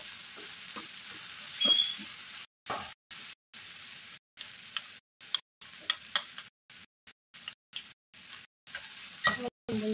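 Sambusa filling stirred in a pan over heat, a steady sizzle with intermittent scraping and clinking of a utensil against the pan, fairly close, in short bursts broken by brief gaps.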